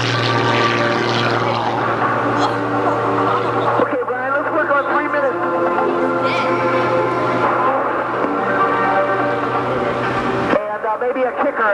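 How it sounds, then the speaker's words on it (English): At the 1998 Westover Air Show, an aerobatic propeller plane drones loudly and steadily through knife-edge passes while an announcer talks over the engine on the public address. "This is what we call the triple ribbon cut, right there in right knife edge flight."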